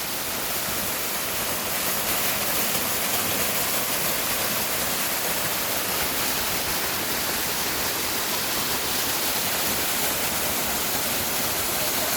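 Gelintülü waterfall on the Ayder plateau in Rize, its water carving the rocks, pours in a steady, full roar heard from near the base, alone and unbroken.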